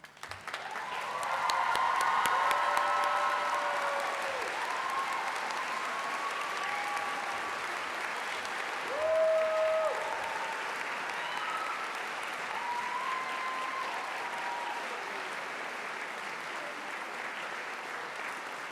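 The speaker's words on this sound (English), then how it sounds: "give a huge and noisy round of applause for everyone in this room and the University of Northampton's class of 2017" An audience at a university graduation ceremony gives a sustained round of applause, a steady wash of many hands clapping in a large hall, distant and even, with some voices and tones over it.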